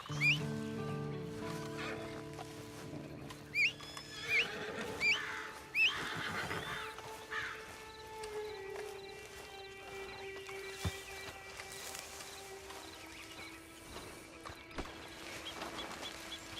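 Horse sounds from the Red Dead Redemption 2 video game: a few short whinny calls in the first six seconds over a music bed, with scattered faint knocks that may be hooves afterward.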